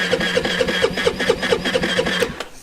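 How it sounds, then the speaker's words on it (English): Honda Navi motorcycle cold-starting on full choke, its small engine catching and running with a quick, even, rapid chugging pulse close up, slightly uneven, before cutting off at the end. "Here's a cold start on the Navi."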